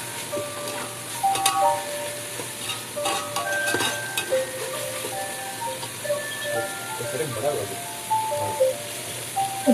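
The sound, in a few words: ghee added to chicken tikka dum biryani, sizzling and stirring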